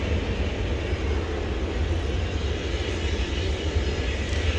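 A UPS MD-11 cargo jet at DFW Airport at night sends out a steady, loud engine roar that fills the scene without a break and has no talk over it.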